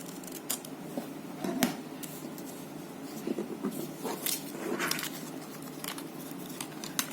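Scissors snip through paper or craft material to cut out a small triangle for a nose, a few scattered crisp cuts and rustles close by over a low steady background hum.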